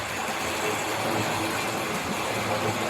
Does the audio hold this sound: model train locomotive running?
yes